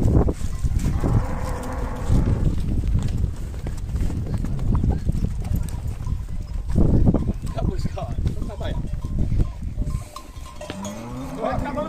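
Cattle moo during a roundup, with clip-clopping hooves, a clanking cowbell and people talking close by, the low lowing calls rising above the busy herd noise.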